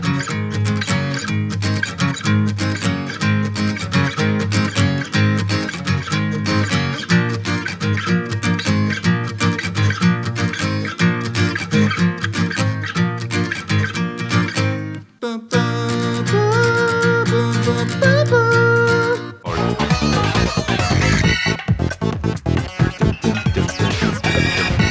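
A bright, busy track from the video game Splatoon Raiders plays loud and continuous, shifting into a new section around the middle and then jumping a whole step up in a key change near the end.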